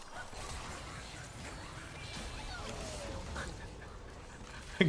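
A chicken in the Dota video game, out in the mid lane, gives short squawking, quack-like calls over a steady bed of clicking, ratcheting game-world noise, ending in a sharp louder hit.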